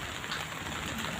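Steady rainfall, a dense even patter of drops on surfaces close by, continuous and fairly soft throughout.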